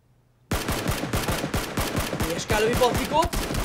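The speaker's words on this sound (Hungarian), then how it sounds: "Lövi Patrikot" Rapid bursts of automatic gunfire from a PUBG duo championship match, loud and close, a continuous rattling stream of shots with a few brief pauses and sharper impacts near the end.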